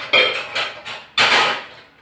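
A few sharp metallic clanks and knocks of a pressure cooker lid being set and closed, close up, with brief ringing decay between hits.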